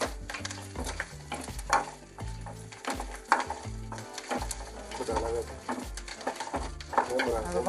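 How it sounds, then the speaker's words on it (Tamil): Onions, green chillies and chana dal sauté in a pan, giving a steady sizzle broken by repeated stirring scrapes, all layered over a tonal musical backing. "பச்சை மிளகாய் வெங்காயத்தையும் வதக்கி விட்டுக்கணும்."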